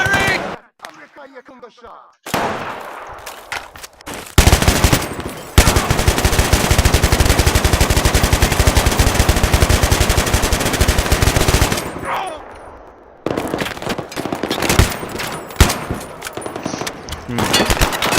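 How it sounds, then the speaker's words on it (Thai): Rapid bursts of machine gun fire in Battlefield 3 roar almost continuously for several seconds, with short pauses and a few scattered shots before and after; no talking. "ยิงสาดไป"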